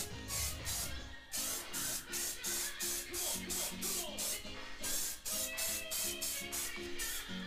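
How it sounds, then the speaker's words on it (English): Bursts of flat black spray paint hiss in quick, repeated short passes over a 1969 Road Runner frame rail part, with a faint background hum underneath. "Flat black, spray this thing up."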